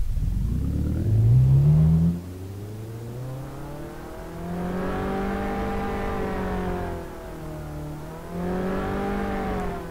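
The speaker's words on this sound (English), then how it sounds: "we can play the proper internal car sound" Car engine interior sound from sound modelling software: a steady, loud engine drone that revs up sharply at first, drops back, then rises and falls again in smooth waves of pitch, with no talking.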